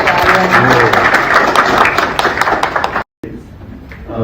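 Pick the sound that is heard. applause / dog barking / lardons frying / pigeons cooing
applause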